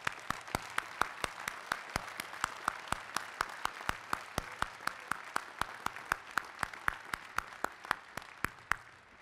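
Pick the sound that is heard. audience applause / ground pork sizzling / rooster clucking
audience applause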